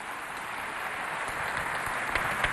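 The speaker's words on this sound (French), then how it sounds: "On se met tous debout et on applaudit très très fort pour les enfants du monde entier" An audience on its feet applauds loudly for children at a celebration of the Day of the African Child, steady dense clapping filling the room and swelling slightly toward the end.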